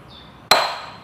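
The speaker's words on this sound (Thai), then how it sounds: "ตรงนี้มันจะมีแหวนล็อกอยู่ด้านในนะฮะต้องตอกให้ ให้ชุดแหวนล็อกตัวนี้ถอยไปก่อนนะครับ" A single sharp metallic strike rings out as a lock ring inside a car's front gear set is tapped loose, a close, loud clink with a bright ringing tail, after a faint high tone.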